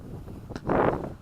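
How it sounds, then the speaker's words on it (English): A brief gust of high mountain wind rushes across the microphone during a drone flight, swelling and fading within about a second. "Darn little gusts are still coming"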